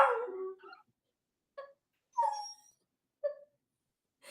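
A hound dog howls and yips in a few short separate bursts with quiet gaps between, close and fairly soft, alone with no talking.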